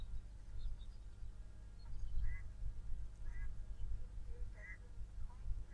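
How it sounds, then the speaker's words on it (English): Faint, distant duckling quacks come at a steady interval over low rumbling background noise, with no talking. "You can hear ducklings quacking, quack, quack, quack"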